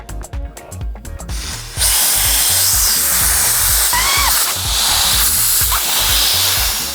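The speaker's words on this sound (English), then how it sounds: "Then you put your thumb on the end of the air atomizer and turn the valve." After a few hollow knocks and clicks, compressed air at roughly 45 to 50 psi bursts into a loud, steady hiss through the valve of a SprayEZ air atomizer and keeps rushing continuously to the end.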